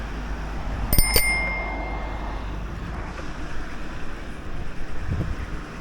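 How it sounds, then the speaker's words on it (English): Two quick bright rings of a bicycle bell on a seaside esplanade, sounded close by early on, followed by steady wind noise buffeting the microphone. "Give these a friendly bell ring."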